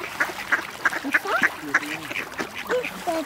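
A duck quacks again and again, close and fairly loud, in quick uneven bursts, while people talk nearby in the background.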